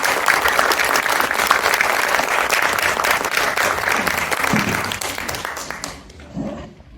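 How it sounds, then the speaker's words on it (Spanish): Audience at a literary event in Los Angeles gives sustained applause for the guest authors, dense and steady for several seconds, then thinning out and fading to scattered claps at the end. "les pido por favor un fuerte aplauso"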